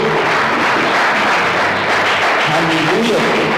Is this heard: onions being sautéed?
no